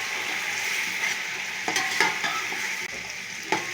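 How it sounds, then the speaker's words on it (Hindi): Mutton with garlic ginger paste frying in hot oil alongside whole spices, with a steady loud sizzle and a spoon stirring and scraping the pot now and then, no talking. "थोड़ी देर में चमचा चलाऊंगी।"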